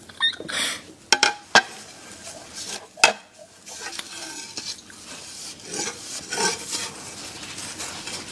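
Dishes, pots and utensils being washed: scattered sharp clinks and clatters of metal against metal, with rubbing and scraping in between, close by and without speech.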